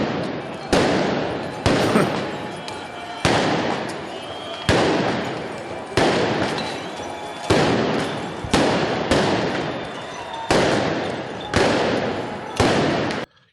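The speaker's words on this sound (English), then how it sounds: "here is more footage of the protesters launching fireworks" Repeated loud fireworks launched by protesters in Paris, about a dozen sharp blasts spaced roughly a second apart, each trailing off with a crackling decay.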